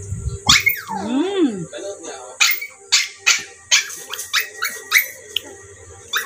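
Pet dogs bark, yip and whimper indoors in a noisy burst, with a rising and falling howl-like whine early on followed by a run of sharp close barks, while a person talks.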